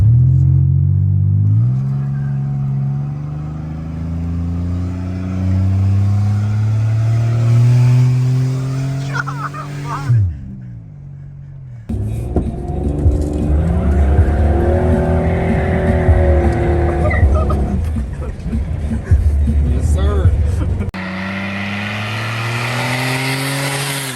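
A loud supercharged car engine with an exhaust leak revs hard in repeated rising pulls, with a brief drop in between, then roars steadily at high RPM close by.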